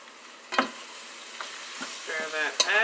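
Crab fried rice being stirred in a frying pan, a soft steady sizzle with a few sharp scrapes and knocks of the utensil spaced out over a few seconds, fairly quiet and close.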